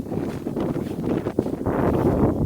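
Dry wind blowing outdoors, a steady low rumbling roar buffeting the microphone throughout with a few gusty bursts, no other sounds standing out.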